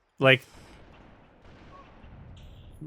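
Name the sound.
sniper rifle gunfire in video game Halo: Combat Evolved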